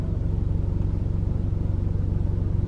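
A car engine rumbles steadily and close by as the vehicle pushes through a strong, fast-flowing river crossing on Savai'i, Samoa, with a continuous low drone and no talking.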